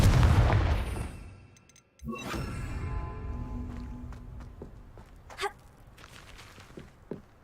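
Confringo blast spells explode in Hogwarts Legacy: a loud booming burst fades out, then a second sharp explosion follows with rumbling debris and scattered impacts.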